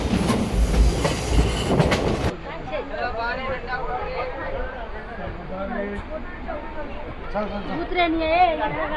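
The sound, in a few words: Palnadu Superfast Express ICF train arriving at Secunderabad station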